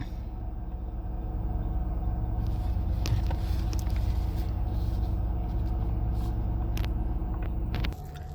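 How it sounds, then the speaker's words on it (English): A 2007 Ford Taurus engine idling while warming up, a steady low rumble at moderate level with faint clicks and taps over it, cutting off near the end. "So we're gonna let the car warm up to operating temperature"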